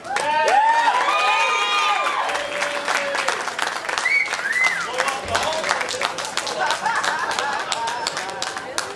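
An audience claps and cheers while people call out and talk loudly over the applause, the voices rising and falling above a continuous patter of hands.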